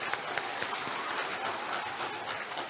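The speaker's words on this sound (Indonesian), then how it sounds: "tepuk tangan dulu" Audience applause at an academic oration and entrepreneurship lecture, a dense continuous patter of clapping hands lasting a few seconds, moderately loud and even without any clear speech.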